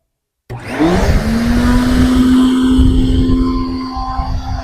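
A household vacuum cleaner switches on after a brief silence and runs loudly and steadily close by, a strong whining motor hum holding a constant pitch over broadband airflow rush, with no one talking.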